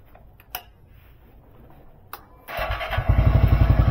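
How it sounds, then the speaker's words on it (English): Honda Monkey 125 motorcycle after an oil change: a couple of faint clicks, then the engine catches at once and settles into a loud, rapid, steady idle thump close by. "I start the bike up."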